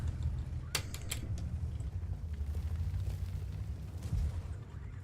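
Enemy tank shells striking the lower glacis of an IS-4 heavy tank in World of Tanks, several sharp impacts clustered early over a steady low engine rumble, with another thump near the end.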